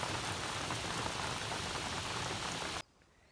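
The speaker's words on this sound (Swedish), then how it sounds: "så regnar det rejält just nu." Heavy rain pounds on a hiking shelter near Västra Krokevattnet, a dense roaring patter that cuts off abruptly near the end, leaving near silence.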